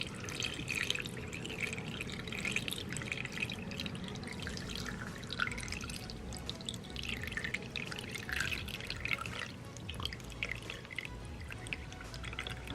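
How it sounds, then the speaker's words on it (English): Water trickles and pours steadily for several seconds, a continuous splashing stream into a single-serve coffee maker's reservoir with faint dripping texture throughout, no voices. "I'm just gonna pour it on here first."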